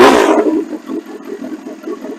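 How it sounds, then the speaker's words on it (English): A 2015 Honda CB1000R motorcycle fitted with an aftermarket exhaust fires up, a loud initial burst settling into a steady, throaty idle burble close by, with no talking. "So I thought I'd start my bike up for you so you can see what it sounds like with the different exhaust on it."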